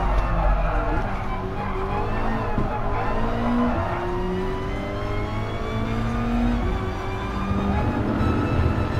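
A BMW M3 2.5 16V race car in Gran Turismo Sport drones steadily through the engine, with tire squeal and rising revs under continuous commentary.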